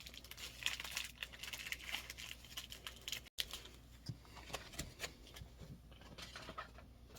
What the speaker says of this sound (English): Sorry for the crinkling here. I got another packet to open.